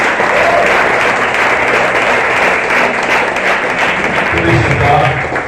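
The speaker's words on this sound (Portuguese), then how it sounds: "Pode aplaudir a palavra de Deus" Church congregation at a Sunday family service applauding together, a steady dense wash of clapping held at even loudness throughout, with a little murmur and a brief voice near the end.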